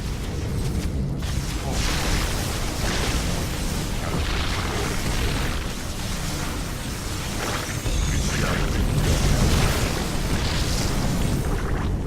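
A Zerg hatchery is blown apart in StarCraft II with loud, continuous booming explosions and rumbling bursts that keep rolling without pause, layered over heavy battle noise.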